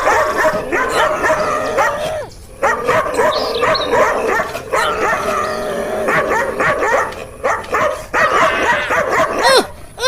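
A fierce dog barks, yips and snarls in quick bursts over about ten seconds, close and loud, with whimpering in the short gaps.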